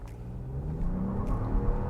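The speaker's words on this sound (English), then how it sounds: "let's see how quick the Envista gets off the line" A Buick Envista crossover accelerates hard from a standstill on a straight road, its engine giving a low, steady rumble that builds and stays moderately close, heard from inside the cabin.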